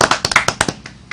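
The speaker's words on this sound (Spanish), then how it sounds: "Vamos a dar un aplauso a esa iniciativa." Sparse handclaps from a small audience at a talk on violence: a quick run of sharp, close claps that thin out and fade within about a second, with no voices over them.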